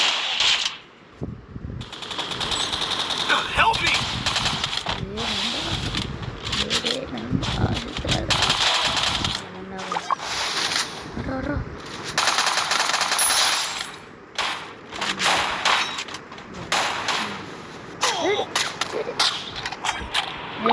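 Rapid machine gun bursts from the Free Fire video game crackle in repeated clusters, with loud broadband game effects and bursts of talk running through much of the stretch.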